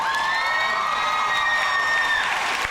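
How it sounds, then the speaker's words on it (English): Comic-Con panel audience for Once Upon a Time cheering and clapping, a big hall crowd with whoops and shouts sustained loudly throughout. "that's a clap break if I've ever heard"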